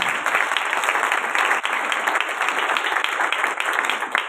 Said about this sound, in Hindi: बेटे के लिए जोर से ताली बजाओ